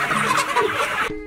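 Chickens at a model poultry farm in Darma rural municipality, Nepal, cluck and chatter in a brief, close, busy burst of overlapping calls before cutting off.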